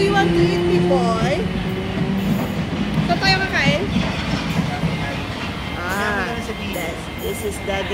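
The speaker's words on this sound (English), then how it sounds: "The train is coming." A train rumbles into a London station with rail noise and squealing wheels, while people talk nearby throughout.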